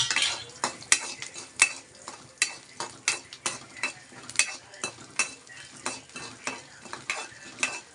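Urad dal frying in a pan while being stirred, with repeated sharp scraping and clinking strokes of a utensil over a steady sizzle, close and fairly loud, no talking.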